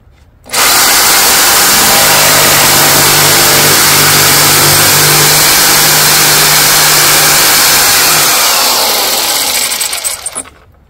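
Corded power saw cutting a small piece off a board while running on a Bluetti AC70 portable power station, a loud, close, sustained whining buzz that starts suddenly, runs steadily for about nine seconds, then winds down.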